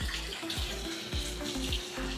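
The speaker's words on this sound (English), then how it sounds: "And look, it has a waterfall." Water pours steadily from a small waterfall into a hotel suite's plunge pool in a Puerto Vallarta ocean-view room, a continuous close splashing rush with no voices.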